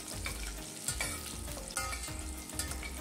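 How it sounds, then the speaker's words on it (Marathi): Ginger, garlic and chopped green chili sautéing in hot oil, with a continuous sizzle and scraping stirs of a spoon against the pan, close and alone. "हे तेलावर परतवून घेऊया."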